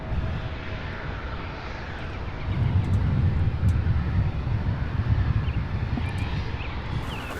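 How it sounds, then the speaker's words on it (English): A CRJ 700 airliner taxis at an airport, its engines a low, distant, steady roar that swells slightly midway, with wind noise across the microphone. "So as the CRJ 700 taxis over"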